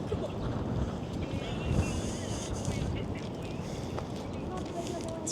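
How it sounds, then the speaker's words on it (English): Wind gusts across the microphone outdoors in the Boston Public Garden in spring, a continuous rough rushing noise that stays moderately loud throughout. "It's a bit windy."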